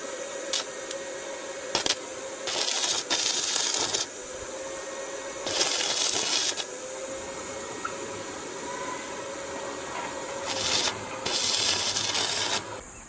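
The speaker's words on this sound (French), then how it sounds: "Le principe va être de faire toucher l'électrode, et comme on a cette pince qui amène la masse, ça va faire un arc et ça va faire fondre la pièce" Stick arc welding: the electrode touches the metal piece with the ground clamp attached, striking an arc that melts it. Several close, sputtering, hissing bursts lasting a second or more are separated by quieter pauses.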